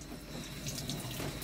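A pineapple is rinsed under a running kitchen tap, giving a steady, close splash of water hitting fruit and sink with no pauses.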